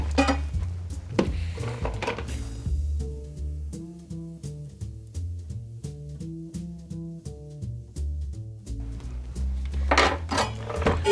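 Ice cubes clatter and clink into a glass of sugared berries for a gin Winterberry soda, with loud rattling bursts at the start and end and a softer stretch of tinkling in between.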